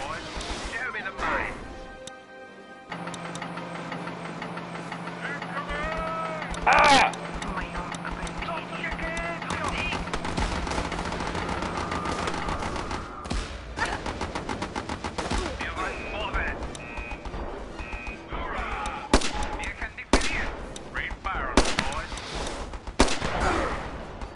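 Gunfire in the strategy game Battle Islands Commanders, with dense bursts of shots and impacts running through the whole stretch over game music and effects, and a voice talking at points.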